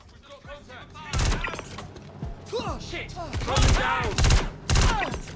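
Gallant rifle fire in Star Citizen, firing in bursts: three loud, sharp volleys of rapid shots stand out over background game sounds, with a voice talking in between.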